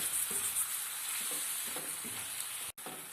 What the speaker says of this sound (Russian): Перчик наш уже больше, чем наполовину обжарился.